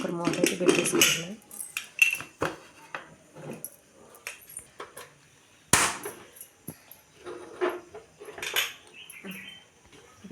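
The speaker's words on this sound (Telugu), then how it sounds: "కుక్కర్ మూత అయితే పెట్టేసుకుంటున్నాను." Metal lid of a pressure cooker fitted and clamped onto the pot, a series of close, sharp metallic clanks and scrapes in irregular bursts, with a voice talking between the knocks.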